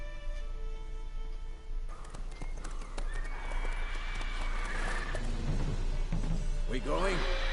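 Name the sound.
horse Roach galloping in Witcher 3 video game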